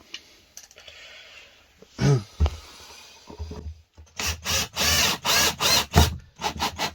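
A power drill whirs in a series of short, rhythmic bursts, driving screws into a bathroom frame in an Iveco Daily van conversion, after some faint scraping and a couple of knocks.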